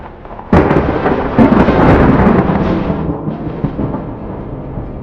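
A thunderstorm with rain on the road to a campsite in the wild hills of Sakleshpura, a sudden loud thunderclap crashing in and rumbling on for several seconds before easing into a steady wash of rain.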